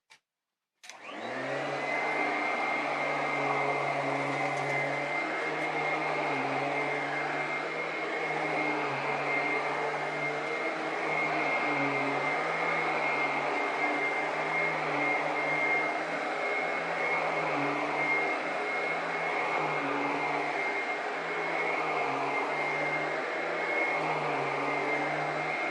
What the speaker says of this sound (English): Now I'm going to sweep up the rest of this mess, and we will do a review on this vacuum cleaner